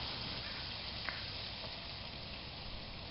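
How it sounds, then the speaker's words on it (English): A hamburger patty sizzles on a solar cooker outdoors, a steady, even frying hiss running throughout at moderate level, with a couple of faint brief clicks and no talking. "Boy, it's really sizzling now."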